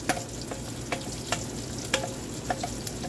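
Six medium chopped onions sizzle and fry in a hot pan while Southern yellow squash is being cooked, with steady crackling spatter and a few sharper pops, and no talking.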